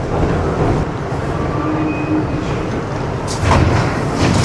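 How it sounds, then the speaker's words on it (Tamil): A New York subway train rumbles loudly in an underground station, a steady dense roar of wheels on track with a faint high squeal and a louder surge near the end. "சப்வே தான் ட்ரெயின் பாருங்கள்"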